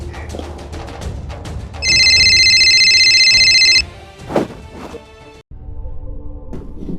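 A mobile phone rings loudly in a steady electronic ringtone for about two seconds in a Haryanvi film scene, then cuts off, with background noise and a thump around it.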